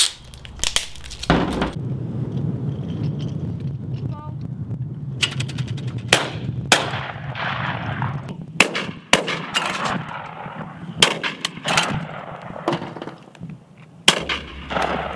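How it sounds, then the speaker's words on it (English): Shotguns firing at a clay pigeon shooting ground, a series of sharp, loud outdoor bangs, several close together and others spaced apart, over a low steady background rumble. "The noise produced by the guns can be heard several miles away"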